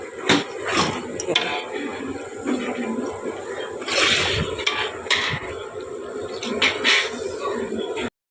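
About 60 kg of meat with ginger is sautéed in a huge pot while cooking for 700 people at Binaguri tea garden in the Dooars, with loud, repeated metallic scraping and clanking of a ladle against the pot over a bubbling background.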